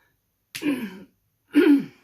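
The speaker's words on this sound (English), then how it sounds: "Bloody hell, coughing again, eh?" A person coughs twice, two short harsh bursts about a second apart, close and fairly loud with silence around them.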